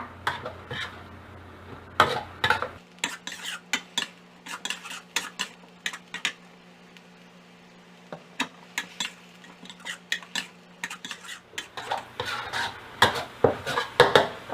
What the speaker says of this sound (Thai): ผัดให้เข้ากันแล้วก็ ให้กะเพราเนี่ยมีความแห้ง